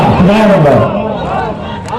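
A crowd at a religious gathering shouts slogans together in answer to a preacher, a loud, close massed chant of many voices rising and falling over two seconds.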